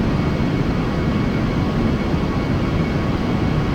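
An Airbus A320 climbs in the Aerofly FS 4 flight simulator, its engines producing a steady, loud, broad jet roar with a low rumble that holds evenly throughout.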